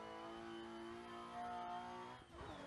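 Simulated car engine in the Assetto Corsa racing game, drifting toward a downhill run at the Ebisu complex, a steady high-pitched droning whine that holds its pitch, then dips briefly and comes back, fairly quiet.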